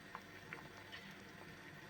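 Thick pumpkin jam bubbling quietly in a pot, with soft irregular pops and blips over a low steady simmer.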